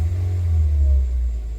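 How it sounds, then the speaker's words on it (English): Engine of a Scion xB with freshly changed spark plugs, revving steadily and smoothly as a loud, close, deep rumble that holds for the whole short stretch with no talking. "the engine revs so freely now"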